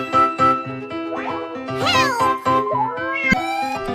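A cat meows repeatedly, stuck up in a tree during a toy-city rescue scene, with several close, loud, rising and falling cries in a steady sequence and a light jingle underneath.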